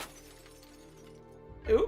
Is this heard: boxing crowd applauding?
no